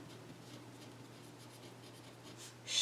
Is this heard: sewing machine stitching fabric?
no